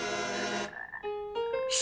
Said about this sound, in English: You must get rid of these frogs.